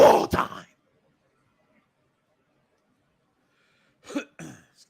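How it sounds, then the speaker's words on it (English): A man clears his throat with a sharp, rough burst, then after a few seconds of silence gives another short, gruff clearing sound, close to the microphone. "Let me clear my throat a little bit more."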